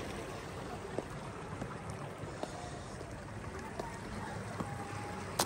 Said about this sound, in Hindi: यहाँ से ऊपर से भी पानी आ रहे, नीचे से भी पानी जा रहे।